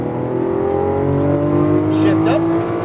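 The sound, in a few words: Lamborghini Aventador accelerating on track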